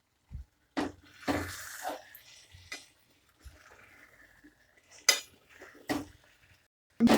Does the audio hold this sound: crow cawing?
no